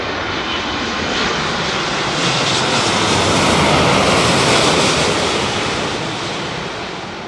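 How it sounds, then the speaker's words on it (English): Boeing jet engines roar at Heathrow Airport during Storm Ciarán, a loud broadband rush that swells toward the middle and slowly fades, with wind adding to the wash. "Built tough Boeing aeroplane."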